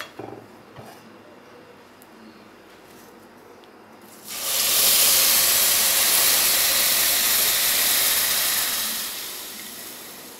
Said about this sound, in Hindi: अब इसके अंदर दूध डालेंगे।